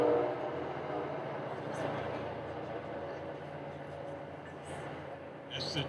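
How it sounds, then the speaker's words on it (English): A passing train on the line toward Philadelphia rumbles steadily and broadly at a distance, with brief higher bursts over the roar, while a crowd murmurs at an outdoor court dedication. "That's the train going to Philadelphia."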